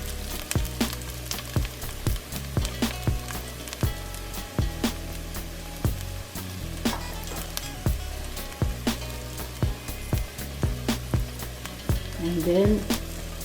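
Pompano fish fry lightly in a little oil, giving a steady crackling sizzle. Regular utensil scrapes and taps repeat about every second over nearly fifteen seconds, with some bubbling near the end.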